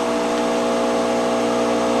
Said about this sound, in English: And this crusher is an old garden composter.